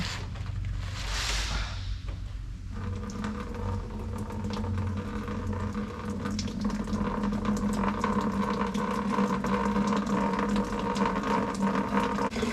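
Engine coolant drains from a massive mining grader into a bucket, first a brief hissing gush, then a steady close trickling and splashing flow over a low mechanical hum.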